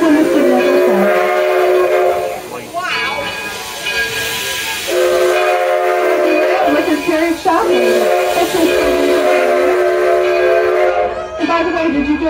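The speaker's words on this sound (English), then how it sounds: "whenever you see a train coming in and leaving the station, please do not cross the track." Edison steam locomotive at the Greenfield Village Railroad station, a steady loud hiss of steam with sustained whistle-like harmonic tones that swell and pause in long stretches, rail clatter underneath, and no talk.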